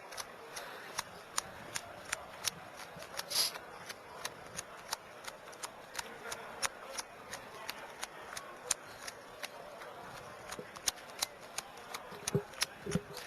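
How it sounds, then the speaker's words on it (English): Playing cards being shuffled during a Magic: The Gathering Pro Tour finals match, heard as a steady run of quiet, crisp riffling clicks and flutters, with a faint background murmur underneath. "Get right down to the business of shuffling."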